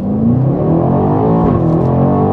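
A BMW X5M F95 600 hp SUV launching from a standstill toward 100 km/h, its engine roaring loud and close as the pitch climbs steadily, with a quick shift dip midway and no talk.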